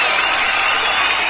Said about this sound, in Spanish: Fuerte aplauso para Ángel, promotor también del próximo baile.